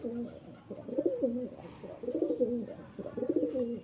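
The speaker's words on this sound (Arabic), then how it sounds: "حمام اهو يا جماعة على السطح زي ما انتم شايفين كده" Pigeons coo on a rooftop in repeated rolling bursts, several close calls in a steady rhythm with faint background noise.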